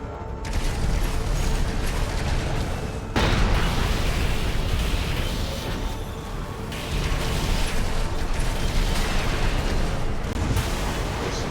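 Explosive weapons going off in a video game, a loud, dense, continuous rumble of blasts and mechanical noise with abrupt shifts in intensity, no talk.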